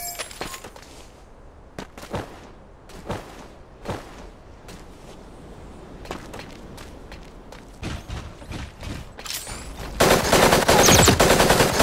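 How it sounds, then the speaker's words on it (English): Scattered sharp gunshots and short automatic bursts crack at irregular intervals in the video game Super Mecha Champions, then a dense sustained barrage of gunfire erupts near the end. "I hear gunfire."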